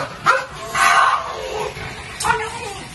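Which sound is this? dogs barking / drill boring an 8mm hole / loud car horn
dogs barking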